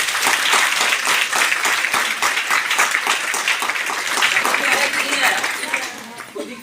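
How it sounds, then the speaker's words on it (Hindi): A large seated audience at a talk gives loud, sustained applause, dense clapping filling the whole stretch and easing slightly toward the end. "जोरदार ताली।"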